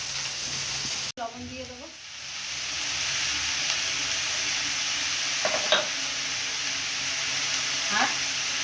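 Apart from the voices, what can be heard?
ash gourd frying and being stirred in a pan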